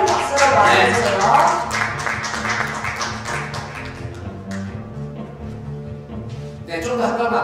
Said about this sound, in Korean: 입장 박수 주세요. 박수로 받아주세요.